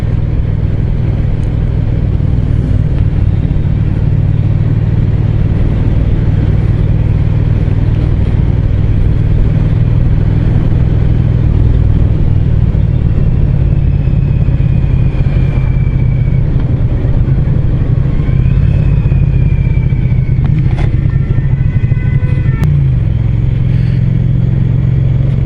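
Triumph Street Cup motorcycle being ridden, a steady close engine drone with subtle shifts in pitch as gears change, running continuously without talk.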